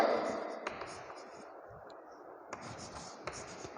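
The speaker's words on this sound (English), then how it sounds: "What we can write? Malik Ahmad" A pen scratches across paper by hand during a social studies class, a steady close rasp with a few light taps and strokes across a few seconds.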